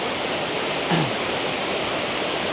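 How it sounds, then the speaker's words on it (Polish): Tumpak Sewu waterfall roars as a steady, dense broadband rush of falling water, continuous and enveloping throughout with no voices. "Tu jest wodospad"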